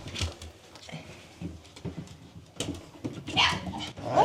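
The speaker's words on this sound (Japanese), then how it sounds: "すごい吠えてるよ。" A small pet dog named Rii-chan barks in short, irregular yips and whimpers, fairly close, with scattered rustling and movement noises around it and no clear talk.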